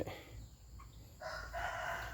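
A wild jungle fowl rooster, living freely rather than kept, gives one full crow lasting about two seconds, fairly close and clear, with no talking.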